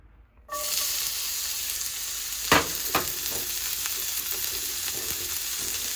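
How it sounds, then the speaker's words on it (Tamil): Onion and crushed garlic sautéing in oil over a slow flame, a sizzle that starts abruptly and then holds steady and close, with a couple of louder stirring scrapes partway through and no talking. "ஸ்லோ ஃப்ளேமில் வச்சு வெங்காயம் நல்லா தரோவாக வதங்கி வரட்டுங்க"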